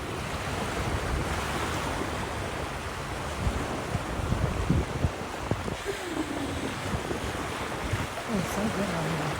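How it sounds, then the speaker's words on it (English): Ocean surf washes onto a beach in the morning, a continuous broad roar of waves mixed with gusting wind noise across the microphone, steady and fairly close, with faint sounds of other activity partway through. "I guess I'll just let you talk to the sea for a little bit."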